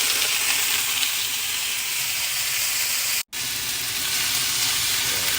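Tomatoes sizzling and frying in a pan while being stirred, a bright continuous hiss that cuts out for a split second before resuming.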